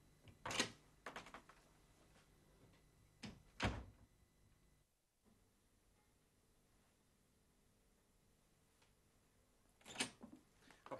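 A door thunks open as someone barges into a room in a 1974 TV drama, heard as a couple of sharp knocks and bumps near the start and another clunk near the end, with quiet room tone between.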